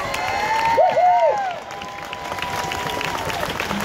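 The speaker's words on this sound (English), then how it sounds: "give that Labor person a round of applause" Steady applause and crowd noise fill the space, with a whistle-like tone rising and falling early on over the clapping.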